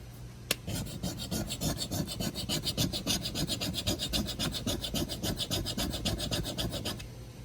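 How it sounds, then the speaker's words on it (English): A coin scratched hard and repeatedly to cut past any silver layer to the base metal, a fast steady rasping that keeps going for several seconds, close and loud, with no voice over it. "I'm going to scratch them real deep because I want to get past any possible layer of silver down to a base metal."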